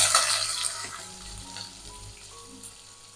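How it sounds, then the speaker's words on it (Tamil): Onions frying in a pan with green chili and curry leaves for cabbage rice, a close, steady sizzle that starts bright and loud then settles to a softer crackle. "வெங்காயம் வதங்கட்டும்"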